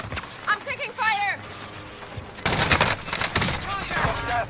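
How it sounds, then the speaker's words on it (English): Rapid bursts of gunfire in the Warzone Rebirth Island video game, clustered volleys of shots mixed with game voices and player talk. "I'm taking fire."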